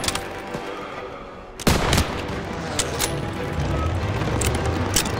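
Heavy gunfire in a Call of Duty: WWII street battle, with a loud burst starting after a second and a half, then sustained rattling shots and booms rolling on in a dense, close fusillade.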